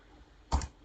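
A single Enter key press on a computer keyboard, one short, close click against a quiet room background.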